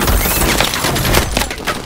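The mech's main gun in Call of Duty: Advanced Warfare fires a loud, continuous barrage of rapid heavy shots. Booming impacts fill the short burst.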